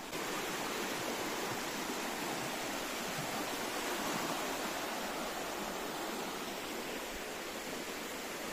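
The Panval river rushing steadily in Ratnagiri, Konkan, a dense, continuous roar of flowing current that holds even from start to finish.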